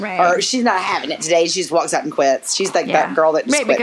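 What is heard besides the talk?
No distinct noise like a dog, phone or traffic.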